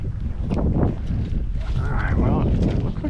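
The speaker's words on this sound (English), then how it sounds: "wind might lay down a little bit. It's actually not as bad as it was." Wind buffets a microphone on a lake during a fly fishing outing, a steady rumbling roar that fills the clip with low gusts, with boat and water noise mixed in and a voice partly audible underneath.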